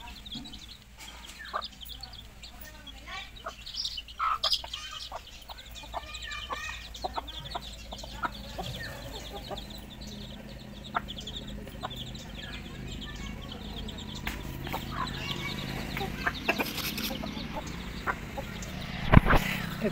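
Village chickens, including roosters, cluck in scattered bursts through an outdoor Odisha village yard, with moderate rural background noise and no speech.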